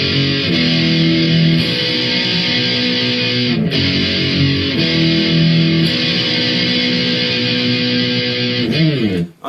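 A distorted electric guitar plays the ending of Blink 182's Aliens Exist, with loud, sustained power chords and repeated changes carrying on steadily before a final slide and a sudden stop.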